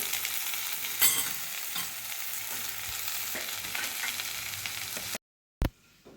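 Coriander sautéing with turmeric in a pan for tomato chutney, a dense steady sizzle with occasional stirring scrapes, cutting off abruptly near the end, no voices.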